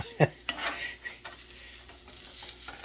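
Hash browns are flipped in a slick ceramic frying pan: a sharp utensil scrape and clatter, then softer scraping and a faint sizzle underneath, close and without speech.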